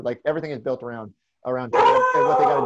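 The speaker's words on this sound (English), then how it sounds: "And that is my dog, who is getting very worked up about the Tatum." A worked-up pet dog whimpers and howls in a rising, strained whine that begins mid-clip, close and fairly loud, following and briefly overlapping someone talking.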